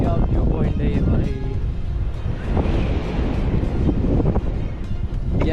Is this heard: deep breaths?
no